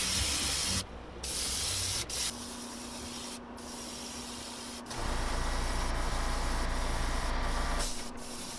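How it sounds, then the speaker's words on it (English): An airbrush sprays multiple coats of pearl white paint onto the scales of a moon-eye fish swimbait, a close, steady airy hiss broken by a few brief pauses between passes, with no voices. "Every scale is gonna get multiple coats of pearl white."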